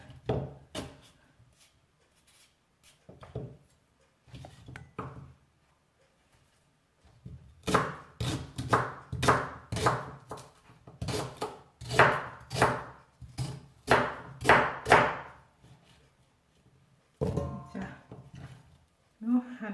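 A knife chops through rhubarb stalks on a board in bursts of quick, crisp strokes, with short pauses and someone talking between them.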